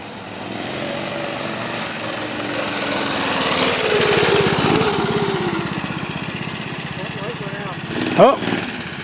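A Rupp mini bike's small engine idles close by with a steady, buzzy putter that swells slightly midway and then settles, and a voice briefly cuts in near the end.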